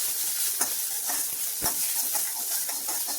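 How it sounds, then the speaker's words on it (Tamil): Continuous sizzling as spices and curry leaves are sautéed in a hot pan, with crackles and soft scraping from stirring throughout. "இப்போ எல்லாத்தையும் நம்ம ஒரு 2 நிமிஷம் 3 நிமிஷம் வதக்கணும்"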